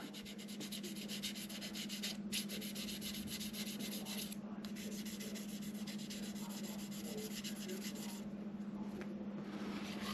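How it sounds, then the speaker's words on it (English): Light, steady rubbing of 1200 grit sandpaper smoothing a model car build's surface, a continuous soft scratchy hiss that keeps going close up and without pause, with no talk over it. "So 1200 grit sandpaper. And I'm not rubbing very hard."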